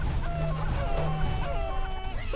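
Chickens cluck in the video game What The Hen!, a busy run of short bird calls layered over steady game music and effects that continue throughout.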